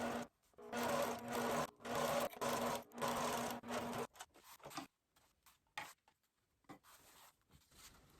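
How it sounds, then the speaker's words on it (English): A sewing machine runs in several bursts of rapid stitching while top-stitching a zipper onto a custom box bag, with short pauses between runs, then fainter clicks and handling noises. "I'll split my zipper apart and do the top stitching after I can get a little narrower foot on there"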